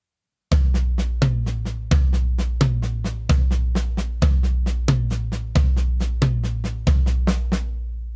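A drum kit lesson groove: feet keep a steady pulse while the hands play a repeating grouping of three, giving evenly spaced sharp hits with deep low thumps recurring in a regular cycle, loud and close, with no talking.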